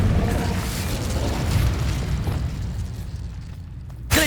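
The Incendio fire spell in Hogwarts Legacy fills the scene with a loud, roaring burst of fiery explosion noise that slowly fades, then a fresh sharp blast strikes right at the end.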